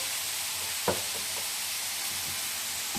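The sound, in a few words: onions sautéing in oil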